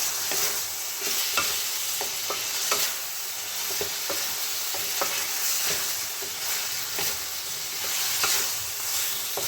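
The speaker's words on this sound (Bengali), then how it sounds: "এটাকে আমি আবারও ভালো করে মিক্স করে নেব" Bottle gourd frying in a pan as it is stirred, a loud, even hiss of sizzling oil with soft spatula scrapes and taps recurring every second or so, with no talk.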